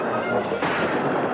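A gunshot booms in a western TV episode, a dense, heavy blast that fills the short moment with a rumbling roar.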